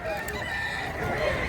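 A big-bodied rooster, one of several chickens offered for sale, crows loudly and close by in a single drawn-out call over a busy background murmur.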